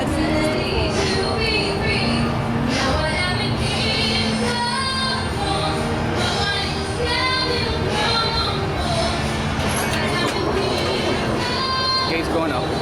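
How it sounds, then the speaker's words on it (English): A southbound train rumbles past a rail crossing in Dania Beach, Florida, with steady rolling rail noise and ringing crossing signals overlapping loudly and close for the whole stretch. "The southbound train might be coming."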